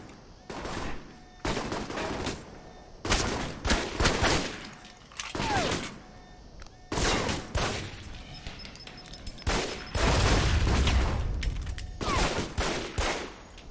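Gunfire from the shooter video game Alpha Protocol: repeated loud bursts and single shots crack out across the whole stretch, spaced by short pauses, with a denser sustained volley near the end.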